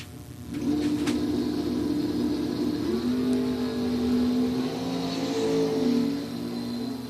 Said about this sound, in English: Here comes the dragster.